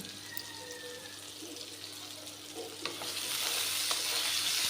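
Potatoes seasoned with salt and turmeric fry in a pan on a gas stove while being stirred, with a soft sizzle rising and turning into a fuller, steady frying hiss, and occasional scrape clicks from the spatula.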